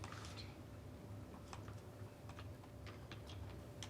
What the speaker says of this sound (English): I'm typing them in